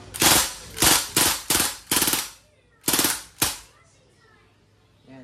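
A Crosman MPW Bushmaster airgun fires on full auto in several short bursts of rapid snapping shots, loud and close, followed by a couple of single pops and quieter mechanical clicks.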